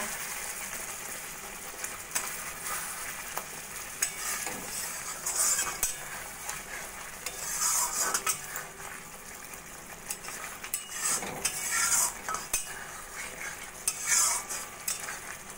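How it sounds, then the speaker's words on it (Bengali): A spoon stirs and scrapes through doi katla, a yogurt-based katla fish curry with green chillies and garam masala, in a pan; soft irregular scrapes and clinks sound close by over a faint sizzle. "ভালো করে মিশিয়ে নেব।"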